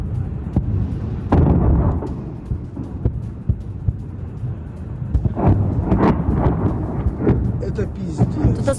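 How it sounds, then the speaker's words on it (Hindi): Shelling strikes Belgorod during a Ukrainian attack, heard as a string of heavy booms and sharp bursts at irregular intervals, some rumbling and distant, others louder and nearer. "यूक्रेन ने पूरी रात यहाँ शेलिंग की है।"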